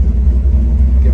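Engine of a 1973-1987 Chevrolet C10 pickup with manual transmission revving, a loud, close, steady low rumble throughout a short burst.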